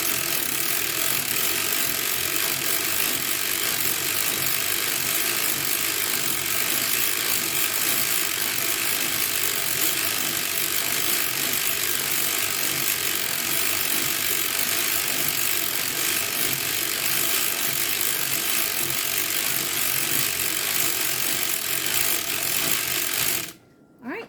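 Steady, continuous mechanical clatter of a circular sock knitting machine being cranked round after round, a dense even ratcheting that runs unbroken at close range with no talk before stopping abruptly at the end.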